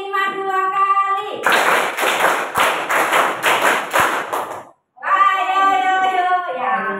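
Children in a classroom doing a counting clap game, with a run of sharp, rhythmic claps in regular beats for about three seconds, framed by talk before and after.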